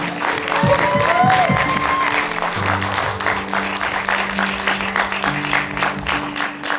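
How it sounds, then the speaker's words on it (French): An audience at a startup competition finale at Station F bursts into loud, sustained applause with some cheering, and a few voices and tones sound within the crowd as the clapping carries on throughout. "Est-ce qu'on commencerait pas par se faire un petit applaudissement pour fêter cette première matinée?"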